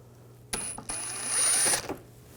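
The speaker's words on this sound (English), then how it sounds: "Using an 8mm socket, we're going to take these screws out" 8mm socket on a ratchet wrench backing out panel screws on a 2006-2010 BMW 550i, a short run of quick close clicking ratchet strokes lasting about a second, with no talking.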